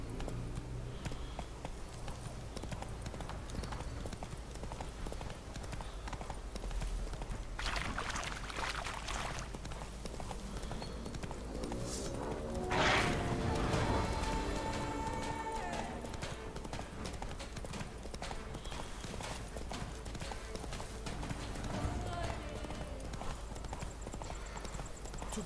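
A horse's hooves beat out a steady, rhythmic clip-clop in The Witcher 3, set in Toussaint, carrying on throughout with game voices and other sounds around it.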